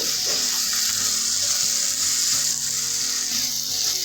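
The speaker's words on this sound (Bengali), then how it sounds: "এবার আমি এটাকে ভালো করে মশলার সঙ্গে কষিয়ে নেব।" Chicken fries with spices in a pan for a dhaba-style chicken bharta, a dense continuous sizzle with low clatter of stirring underneath, close and even throughout.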